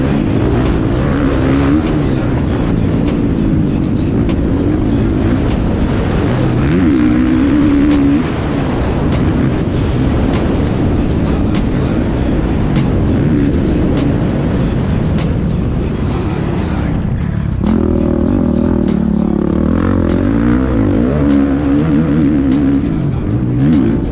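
Off-road vehicle driving a lap around an off-road park in Greenup County, engine droning and revving up and down continuously near the microphone, with shifts in pitch as it accelerates through the course.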